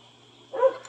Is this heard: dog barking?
yes